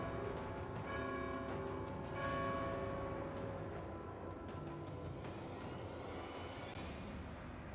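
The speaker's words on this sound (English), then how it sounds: "Call me a hunchback because I'm ringing these bells." Bells ring in the God of War II video game, a layered metallic peal with lingering overtones held at a fairly quiet, steady level, a few brighter strikes standing out over the sustained ringing.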